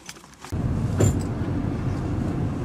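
A car starts driving off, a quieter rattle giving way to a sudden, steady rumble of engine and road noise from inside the vehicle that holds for the rest of the clip.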